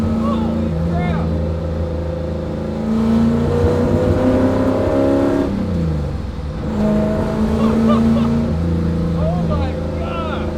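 Prototype Shelby GT350R engine revving hard and winding out through the gears, a loud, steady roar that rises and falls twice with shifts, heard from inside the car as occupants talk excitedly over it.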